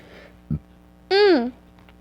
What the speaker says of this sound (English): now that was a burp